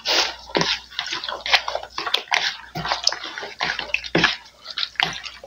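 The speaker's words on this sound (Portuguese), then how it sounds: "mexer aqui bem, ó." Seasoned pork ribs, dusted with ground coriander, are stirred by hand in a bowl, giving a continuous run of close, wet squishing and sloshing with irregular bursts and no speech.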